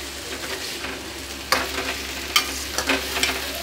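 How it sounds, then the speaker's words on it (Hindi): Bitter gourd with added sugar being stirred in a pan over medium heat, with a steady sizzle and several sharp scraping strokes of a spoon against the pan, no talking. "तब तक हम इसे फिर इसी तरह से मध्यम आंच पर हिलाते डुलाते इसको चलाते रहेंगे"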